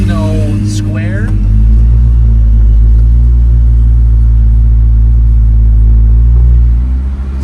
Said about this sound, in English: I personally think the car actually sounds quite tame.